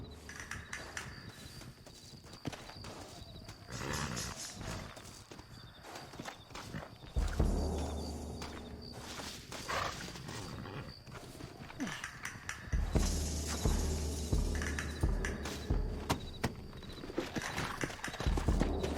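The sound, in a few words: horses galloping, from a video game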